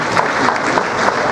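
Audience at a conference giving a welcoming round of applause: dense, continuous clapping from a crowd in a hall, steady and moderately loud for the whole short stretch.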